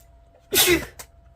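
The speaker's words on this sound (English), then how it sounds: "I thought I was going to sneeze" A single sharp sneeze, close and fairly loud, with a short breathy tail afterward and quiet around it.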